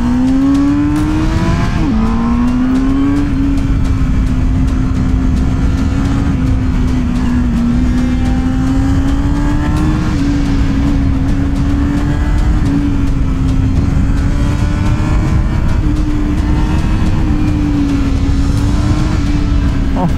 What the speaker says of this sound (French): Oh là là, mec, elle est incroyable la CBR dans les tours.